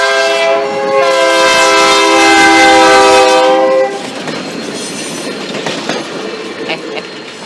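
Great Northern GN 400 locomotive passes through Union Depot, its loud chord horn blaring for a few seconds, then giving way to the rumble and rhythmic clatter of the moving train.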